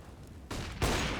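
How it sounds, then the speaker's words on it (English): Gunfire in a Counter-Strike match on the Overpass map: two loud, close bursts, the first starting about halfway through and a heavier one just after, with no talking. "Oh, nice timing shot from Refresh."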